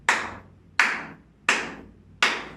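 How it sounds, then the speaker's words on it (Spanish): Four single hand claps in a primary school arts exercise, evenly spaced and close, each sharp and ringing briefly before silence. "Vas a hacer 4 aplausos."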